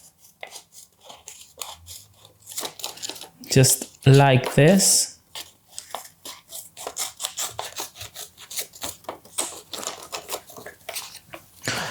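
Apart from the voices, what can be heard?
scissors cutting a paper play-money bill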